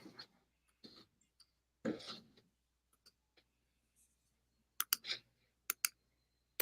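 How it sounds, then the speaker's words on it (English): Sparse, irregular typing on a computer keyboard, scattered clicks and short bursts of keystrokes separated by quiet gaps, close and fairly faint, with no talking. "I know it's painful to watch me typing"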